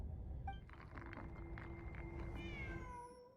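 A cat in Genshin Impact lets out a faint, drawn-out meow over a steady low background hum, with light clinking and a rising tonal tail toward the end.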